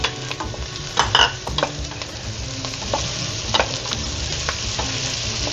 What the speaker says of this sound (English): Just coat the potatoes with the vegetables that are in here